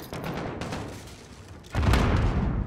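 A grenade goes off in the Call of Duty: Modern Warfare campaign, a sudden loud, heavy boom that breaks through the steady gunfire and battle noise and then rolls on as a low rumble.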